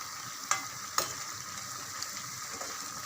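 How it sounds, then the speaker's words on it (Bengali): Plantain koftas frying in oil, a soft, even sizzle throughout with two sharp clicks of a utensil near the start, quiet and close. "এভাবে সব কোপ্তাগুলো আমি ফ্রাই করে নিলাম।"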